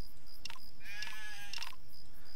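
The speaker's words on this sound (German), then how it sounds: "Hier ist noch ein Schaf" A sheep bleats in the video game Craft the World, a clear wavering cry heard twice in close succession over a faint steady game tone.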